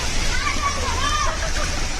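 Water splashing and sloshing on monsoon-flooded streets in Mumbai, a steady broadband wash of noise with faint voices and children's chatter mixed into the background.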